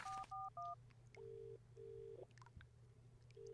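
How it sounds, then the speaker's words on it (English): Payphone keypad tones in the British life-simulator game Landlord's Super: a quick run of three short dialing beeps, then longer steady tones at a regular pace over a low constant hum, no talking. "there's a phone here. I haven't used that yet. Payphone."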